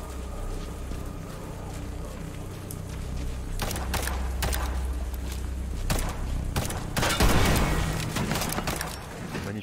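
Gunshots ring out in a French-narrated playthrough of the video game Liberated, with sharp broadband cracks scattered over a steady game ambience and a louder burst near the end.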